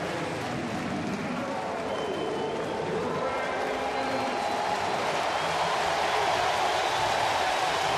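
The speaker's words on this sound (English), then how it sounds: "Big round of applause" Baseball crowd at a Cardinals–Reds game in Cincinnati applauding as Phillips comes to the plate, a steady wash of distant clapping and cheering that runs the whole time beneath a broadband roar.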